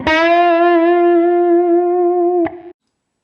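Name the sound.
guitar string bend with vibrato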